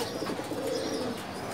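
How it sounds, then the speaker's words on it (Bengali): A pigeon coos softly inside a loft in a Bangladeshi pigeon market, a low, continuous murmur against a constant background hum, with no voices present. "খুবই সুন্দর কবুতর।"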